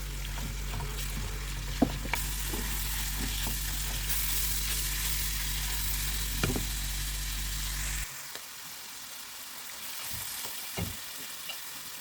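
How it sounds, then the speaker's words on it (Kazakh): Grated carrots fry in a pan for zucchini caviar, giving a steady close sizzle with occasional stirring clicks; the frying hiss drops noticeably partway through and continues more softly. "сәбізімізді салып, жақсылап 2 минуттай қуырамыз"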